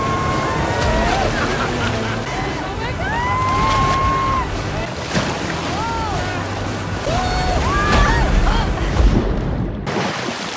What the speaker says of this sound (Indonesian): sebentar lagi perahu akan melewati jeram yang pertama